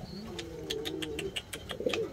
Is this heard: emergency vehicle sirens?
no